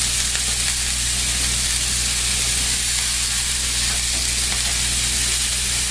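Chicken sizzles and roasts in a hot pan, giving a loud continuous crackling hiss that holds steady throughout, close up with a low hum underneath and no talk.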